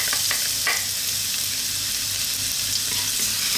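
Garlic sizzles in hot oil in a wok for adobong kangkong, a loud, continuous, close frying hiss with faint stirring scrapes underneath.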